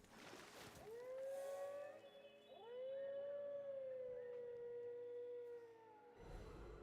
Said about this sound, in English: This howl of hers is not a cry, but a warning.